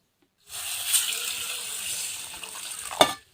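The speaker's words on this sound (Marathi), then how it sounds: "आता आपल्याला स्वच्छ दोन पाण्याने धुवून घेऊ" Water swishes and sloshes steadily as moth beans are rinsed in a bowl, with a short sharp clink near the end.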